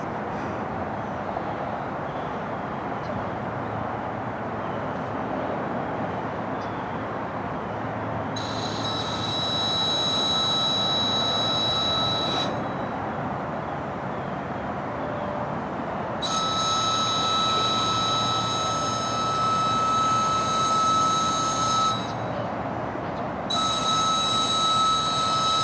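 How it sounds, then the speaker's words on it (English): A CSX freight train, train 92, shoves backwards along a former ACL spur track in Tampa, Florida, a steady rolling rumble with intermittent high wheel squeal and tonal whine that rises and fades in several long stretches. "train 92 is going to be shoving backwards out of accepted spur track that used to be the ACL's link to High Springs"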